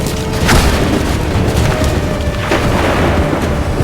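A musket volley in the Assassin's Creed III video game bursts out as loud, booming gunfire, rumbling heavily and sustained over a few seconds.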